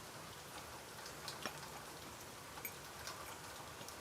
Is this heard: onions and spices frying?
no